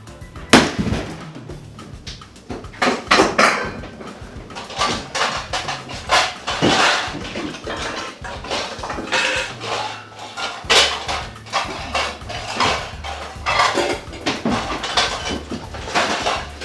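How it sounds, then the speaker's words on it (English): Pots, pans and utensils clatter and bang in a home kitchen, a near, busy run of irregular metallic knocks and clunks with no pauses. "The other things you'll need are pots and pans."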